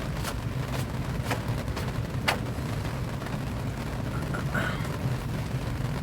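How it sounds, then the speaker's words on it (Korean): Rain falls steadily at a campsite, a constant dense patter close by with a few sharper drops and taps standing out, and no talking. "맞아요. 이거 빗소리예요."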